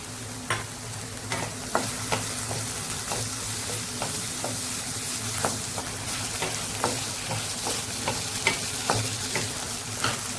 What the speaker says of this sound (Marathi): कांदा इथे दोन मिनटं परतून झालेला आहे टोमॅटो घालूया